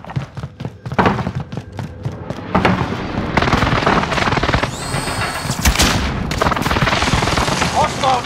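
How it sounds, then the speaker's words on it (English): Precision airstrike explosions in Call of Duty: Warzone on the Fortune's Keep map, a rapid series of loud booming blasts and gunfire bursts that build into a dense, continuous barrage. "Enemy precision airstrike."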